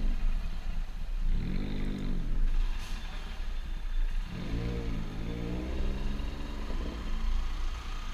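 A Japanese-market car with a large aftermarket exhaust drives past on a street, its engine droning and rising in two loud revving swells over steady road noise.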